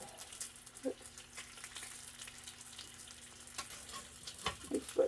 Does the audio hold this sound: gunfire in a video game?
no